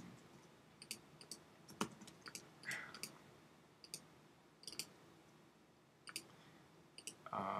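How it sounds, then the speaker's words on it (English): Sharp, dry mouse clicks recur at an uneven pace, some single and some in quick pairs, close and fairly quiet over a soft room hiss while someone edits a manipulation banner in design software. "There's a lot of clicking"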